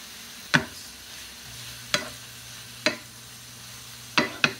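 Spinach tossed into a hot pan of softened shrimp-quesadilla filling gives five sharp crackling bursts, each decaying fast, with a faint steady sizzle and a low hum beneath, no talking.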